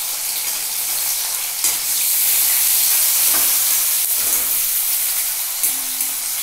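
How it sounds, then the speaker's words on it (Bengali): Potatoes and onion fry in a pan with a loud, steady, close sizzle and hiss, broken by a few brief stirring scrapes and soft clicks, with no voices. "আগে আলুটা ভেজে নিচ্ছি"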